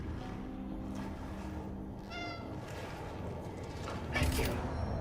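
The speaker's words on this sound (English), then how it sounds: "There's a cat. There's our cat friend." A cat meows in the video game Mask of Cronos: The New Dawn, with a brief, faint mew set against a steady, low ambient game drone.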